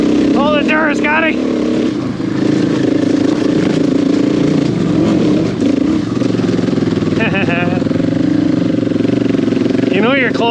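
A 250 dirt bike engine on a trail runs loud and close throughout, revving up and down, with voices talking over it at times.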